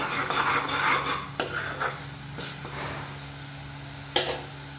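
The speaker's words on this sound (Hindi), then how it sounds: "रोस्ट कर रही हूँ। इसमें है प्याज, लहसुन, टमाटर और अदरक।" Onion, garlic, tomato and ginger roasting in a pan, with steady close sizzling broken by a few sharp spoon scrapes and clinks against the metal, and no voices.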